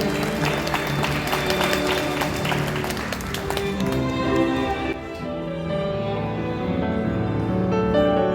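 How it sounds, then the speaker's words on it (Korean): Wedding guests clap for the bride and groom, a burst of applause over music that thins out midway while the music carries on. "축복의 박수 한 번 더 보내주시기 바랍니다."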